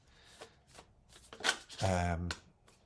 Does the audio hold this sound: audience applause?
no